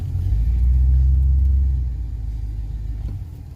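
A truck's engine rumbles low and steady as the vehicle creeps into a residential garage, loudest early on and then settling to a quieter idle-like drone, with no voices.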